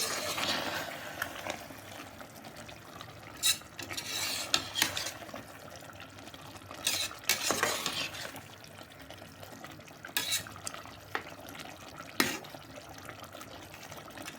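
A spoon scrapes and stirs red chilli powder through a tomato masala in a pan, with intermittent clinks and scrapes over a wet, sizzling background, no voices.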